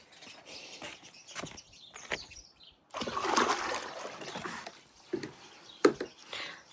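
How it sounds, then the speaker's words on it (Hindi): Water is drawn from a drum and mixed for a cow in a mountain village, heard as splashing and trickling with a longer pouring stretch, while birds chirp in the background. "बाकी इसमें पानी मिक्स करूँगी"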